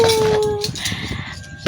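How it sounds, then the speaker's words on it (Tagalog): A dog whimpers for attention close by, with high thin whines that trail off, then a short yip at the end. "nagpa-bebe yung aso ko dito"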